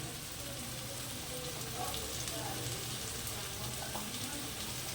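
Spice paste and potatoes frying on low heat in oil for a Bengali shol fish kosha, a steady soft sizzle and crackle running evenly throughout at close range with no one talking.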